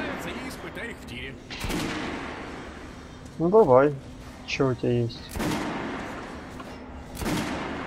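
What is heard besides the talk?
guns test-fired at a shooting range in the video game Metro Last Light Redux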